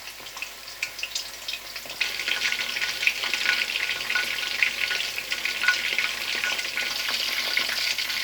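Chicken pieces for chicken chilli frying in hot oil, a steady bright sizzle and crackle that thickens after the first couple of seconds, with occasional stirring clinks, close and alone without talk.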